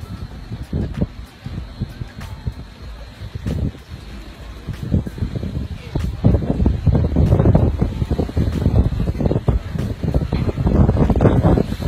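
Wind blows hard outdoors in Sweden, buffeting the microphone with a loud, rumbling roar that gusts unevenly and grows stronger over about twelve seconds.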